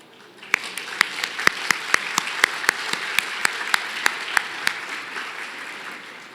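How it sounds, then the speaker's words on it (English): An audience at an electric cooperative's annual meeting gives a brief round of applause, with a dozen or so sharp, separate claps standing out over a softer wash of clapping that fades toward the end. "Would you all just stand up briefly for a round of applause?"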